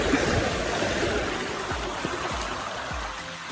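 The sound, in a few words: flowing water of a stream on Mt Pinatubo trail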